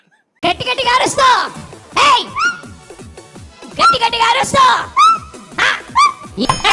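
A voice imitates a dog with a run of barking, yipping and whimpering sounds, loud and close, in several bursts.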